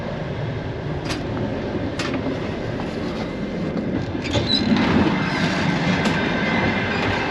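A sleeper train between Bucharest and Chisinau rumbles along with continuous low rolling noise, periodic wheel clicks on the rail joints and faint metallic squeals, heard from inside the carriage.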